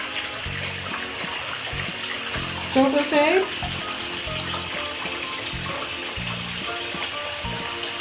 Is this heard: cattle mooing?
no